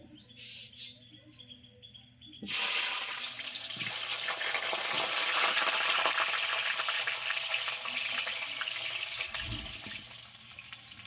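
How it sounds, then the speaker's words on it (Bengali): Halved potatoes frying in hot oil for a chicken dish: after a quiet couple of seconds a steady, fairly loud sizzling hiss sets in and holds for the rest of the clip, with no talking. "তেল গরম হয়ে গেছে হালকা করে আলুগুলো ভেজে নেব"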